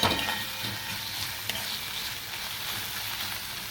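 Tomato and ginger cooking in hot oil produce a steady close sizzle with a few soft stirring clicks, with no talking.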